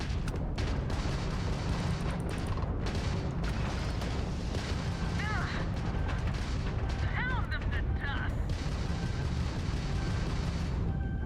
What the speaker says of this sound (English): Why am I shooting at nothing?